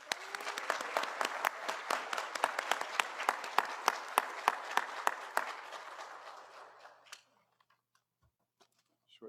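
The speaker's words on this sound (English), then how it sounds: "Let's give them another round of applause." An audience at a Black Scholars Day ceremony applauds honored scholars, a moderately loud, even round of clapping that fades out after about seven seconds into near silence with a few faint taps.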